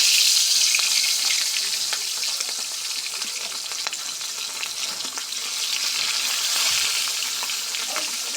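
Pieces of roe-filled bata fish fry in hot oil with a loud, steady crackling sizzle that fills the whole stretch, occasional pops and spatters breaking through, with no voices.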